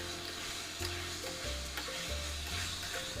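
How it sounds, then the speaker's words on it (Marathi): Washed chicken liver frying on high flame in a spicy dhaba-style masala, a loud continuous sizzle with a spoon stirring and scraping the pan up close, no voices. "आता आपण जे लिव्हर धुवून ठेवलेलं आहे त्याला घालून हाय फ्लेमवरती मी 1 मिनटं ह्याला भाजून घेणार आहे"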